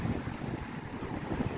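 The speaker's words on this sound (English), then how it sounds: "It's a really, really windy day for the big waves" Strong wind gusts buffet the microphone on a beach at Ao Nang, Krabi, Thailand, where big waves roll in. The roar is loud and constant for the whole moment and nearly drowns everything else, and no one talks.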